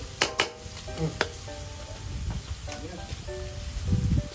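Malabanos sautéing in a pan, crackling sizzle with sharp spatters and clinks of a utensil, close and fairly quiet, swelling toward the end.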